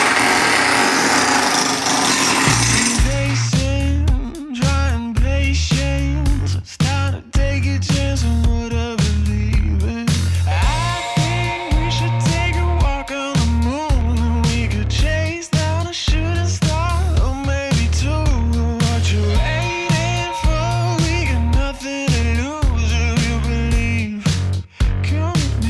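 A rotary hammer drill in hammer mode with a flooring paddle chips up a bathroom floor during demolition, a loud, continuous rapid pounding with grinding scrapes that runs almost unbroken from close range.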